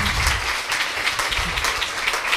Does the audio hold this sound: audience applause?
yes